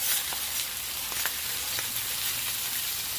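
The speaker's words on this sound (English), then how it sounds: "Let's let that cook. Bacon's been on for about a minute or two." Thick-cut bacon sizzles steadily while frying in a pan, a continuous crackling hiss with scattered sharper pops throughout.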